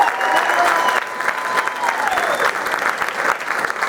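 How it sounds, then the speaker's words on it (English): Audience applauding a high school jazz band at a school concert, a steady dense wash of clapping that stays loud and close throughout, with faint crowd murmur underneath. "Let's give a round of applause again one more time, please."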